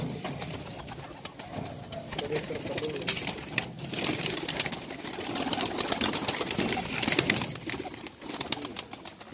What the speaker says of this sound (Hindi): बहुत ही उमदा कबूतर है